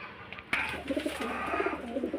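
Soft, rhythmic cooing from a pigeon or dove, repeated several times close by over low background noise, after a brief bump at the start.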